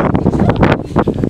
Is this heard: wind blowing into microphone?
yes